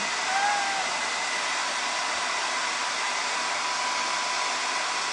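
A hair dryer blows loud and steady up close, heating and drying paint on a plate, a constant rushing whoosh with no breaks.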